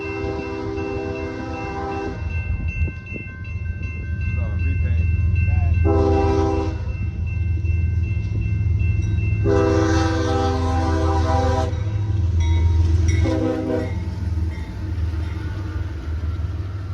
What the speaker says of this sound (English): CSX I-007 made its way through town just before 9 a.m.